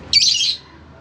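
Pet birds in a backyard cage give a short, loud burst of high chirping and squawking up close, fading after half a second into faint background noise.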